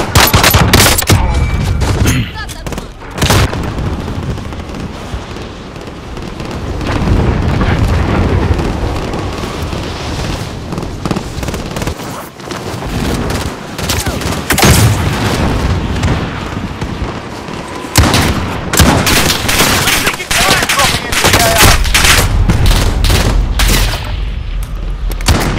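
Dense, loud gunfire in a Call of Duty battle royale match, with sustained automatic bursts and booming shots stacked over a constant roar for the whole stretch, briefly thinning in places before resuming.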